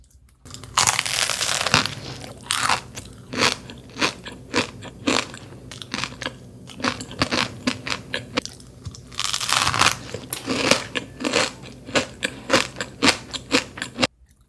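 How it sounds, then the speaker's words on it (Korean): Loud, close crunching as crisp kadaif pastry inside a kouign-amann is chewed, in rapid irregular bites that come in two bursts, with no talking. "거기에 더 바삭바삭한 카다이프가 씹히니까"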